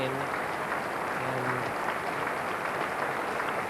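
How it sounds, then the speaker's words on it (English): A cricket crowd at Headingley applauds during a Yorkshire v Hampshire Benson and Hedges Cup quarter-final, steady, fairly distant clapping that continues throughout under a commentator's voice. "justifiable applause from this excellent crowd here at Headingley"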